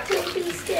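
Water splashes and sloshes in a bathtub as two puppies are washed, close and continuous, with a voice speaking over the splashing.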